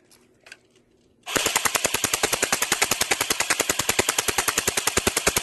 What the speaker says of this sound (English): But I'm gonna shoot the back.